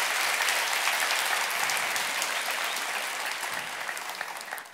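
A conference audience claps for an incoming speaker, a dense, steady round of applause that tapers slightly toward the end, with no talking over it.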